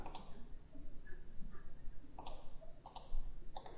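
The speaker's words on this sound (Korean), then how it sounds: "클릭 클릭 뷰 클릭합니다" Computer mouse clicks during modeling in Inventor CAD software, a few sharp, quiet clicks spaced about a second apart, some in quick pairs, over a faint room hum with no talk.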